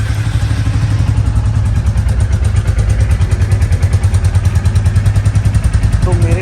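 A Royal Enfield Classic 350 motorcycle engine idles close by with a steady, rapid throbbing pulse and rattling exhaust vibration, loud and continuous throughout.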